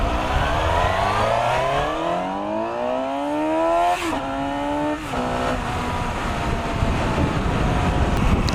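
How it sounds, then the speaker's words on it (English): A 2018 Suzuki GSX-S750 motorcycle on its stock exhaust and intake revs up through the gears, with steadily climbing engine pitch broken by brief dips at the shifts, loud and continuous over rushing wind noise. "the stock exhaust in the intake of this bike sound incredible for being stock"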